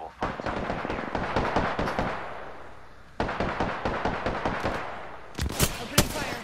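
Rapid automatic gunfire in a battle royale shooter, dense bursts of sharp cracks in two long strings with a brief gap, loud and close, ending with a few heavier shots.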